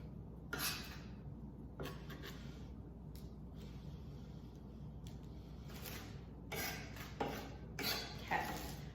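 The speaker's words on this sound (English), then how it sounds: "You can go ahead and just scrape them directly into your crock pot." Cut peppers scraped off a cutting board into a crock pot for chicken cacciatore, a few soft scrapes and light clatters of utensil and dish close by in a quiet kitchen.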